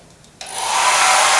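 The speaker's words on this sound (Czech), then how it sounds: "Tak, vezmu jeden fén." A hair dryer clicks on and ramps up within a fraction of a second into a steady, loud, close airy whoosh that holds at full strength.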